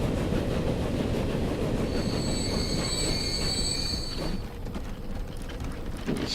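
An 1850-era steam train in the game Transport Fever rumbles steadily on its rails, and a thin, high wheel squeal rises midway before fading as the rolling noise carries on.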